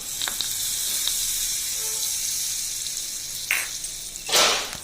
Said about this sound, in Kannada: ಇದಕ್ಕೆ ನೀವು ಮೇಲಿಂದ ಈ ಥರ ಒಗ್ಗರಣೆ ಕೊಟ್ಟರೆ